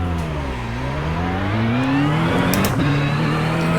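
A race car engine running through a lap in the iRacing sim, its steady loud drone climbing and dropping in pitch as it revs and shifts, with a brief rasp near the end.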